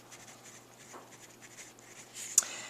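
Pen writing by hand on paper while working through invoice and purchase accounting notes, a soft continuous scratchy stroking that runs faintly throughout with one sharper tap near the end, no talking.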